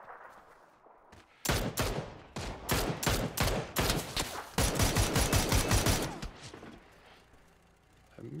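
A loud, sustained barrage of gunfire from a shooter video game, with rapid bursts of close shots in an uneven rhythm that build into near-continuous firing before tapering off into quieter background noise.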